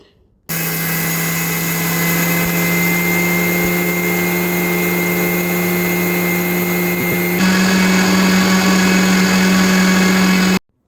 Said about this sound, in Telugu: మిక్సీకి నిలవేసి వేసి రాగుల్ని చక్కగా ఇంట్లోనే పిండి చేసుకుంటున్నాను